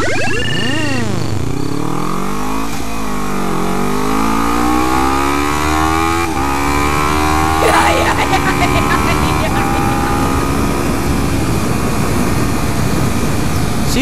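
A Kawasaki Ninja 300 motorcycle accelerates hard with a quick shifter, its engine whine climbing in pitch and dropping with each rapid upshift through several gears before settling into a steady, loud cruising drone.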